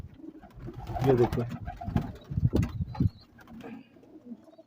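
Pigeons coo in a loft with Salary Teddy pigeons kept, soft low murmuring calls repeating close by, mixed with rustling and someone talking over them.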